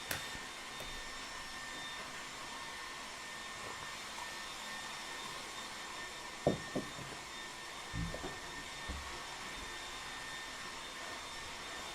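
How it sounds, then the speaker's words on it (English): A hair dryer runs with a steady whooshing hum throughout, with a few faint knocks and clicks partway through. "it's too loud with that hair dryer going in the background"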